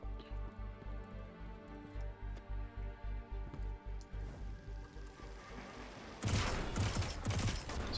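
Shotgun blasts in the video game Destiny 2, a steady run of rapid, evenly spaced booming shots for about six seconds, then a louder dense burst of noisy impact and clatter at the end.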